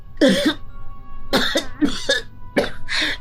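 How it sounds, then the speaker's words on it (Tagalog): Several harsh, chesty coughs in quick bursts, close to the listener, with short pauses between them and no talking. "nahihirapan akong huminga kapag po inuubo ako"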